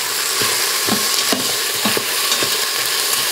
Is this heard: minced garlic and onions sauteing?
yes